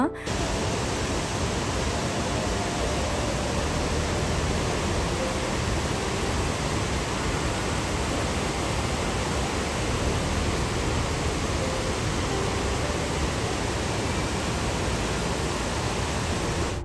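Waterfall in Ooty rushing in a steady, dense roar that holds unbroken and close throughout, with no voices over it.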